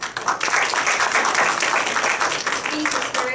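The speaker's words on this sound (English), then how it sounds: "Let's give Bashir a round of applause." Audience at a speech event applauding, a steady wash of many hands clapping close and fairly loud for the whole stretch, with no talk over it.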